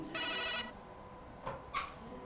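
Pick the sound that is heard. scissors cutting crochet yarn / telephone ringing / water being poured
telephone ringing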